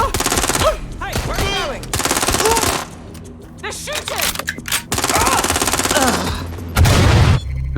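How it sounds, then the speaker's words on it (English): Bursts of gunfire in the video game Watch Dogs Legion, rapid automatic shots and single cracks layered under shouting voices and action, loud and continuous with short lulls. "They're shooting!"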